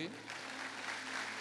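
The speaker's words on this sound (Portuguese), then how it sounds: "Dá uma salva de palmas para esse povo aí." Faint applause from a church congregation during a family-themed service, a soft continuous patter of hands heard from a distance over a low background hum.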